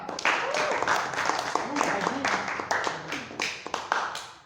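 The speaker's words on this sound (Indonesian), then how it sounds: "Beri tepuk tangan untuk Mas Randy Damasima" Scattered applause from a small audience after a poetry reading, continuous clapping with individual sharp claps standing out, moderately near, with a voice faintly audible underneath.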